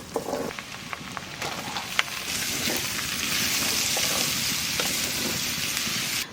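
Onion and capsicum, with whole garlic cloves, fry in a pan, giving a steady close crackling sizzle that swells louder partway through, dotted with a few sharp pops and stirring clatters.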